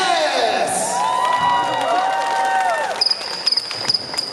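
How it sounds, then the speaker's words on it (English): A crowd at an outdoor dance contest, mostly kids, cheers and shouts for a dancer from Australia, with overlapping voices and whoops. Sharp claps break out toward the end over steady crowd noise. "give me a round of applause for whoever you think was the best dancer"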